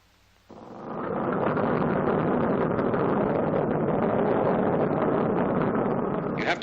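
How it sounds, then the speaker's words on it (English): A 1944 Boeing B-29 bomber's piston engines start abruptly and settle into a loud, steady, rumbling drone. The roar stays constant and close as the engines run, with no voices heard. "The same procedure is repeated until all 4 engines are running."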